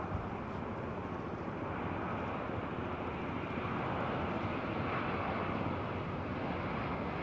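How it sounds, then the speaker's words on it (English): Thai Airways Boeing 777 operating for Finnair at London Heathrow, its engines running up as a steady broadband roar with wind buffeting the microphone, constant and fairly distant throughout. "should be able to get a nice start up with this beautiful Thai 777"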